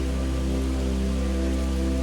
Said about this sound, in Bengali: যে পরিমাণ বৃষ্টি হইতেছে